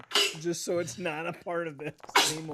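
A player at a tabletop Call of Cthulhu horror role-playing session sneezes, with sharp bursts at the beginning and near the end surrounded by ongoing conversation close to the microphone.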